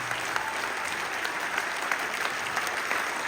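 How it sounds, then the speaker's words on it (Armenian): An audience at a charity concert in Maralik breaks into sustained applause, dense steady clapping from a large crowd, loud and even throughout. "Ես խնդրեմ այդ ծափարեն թող բարձրանա երկինք մեր ծափերը"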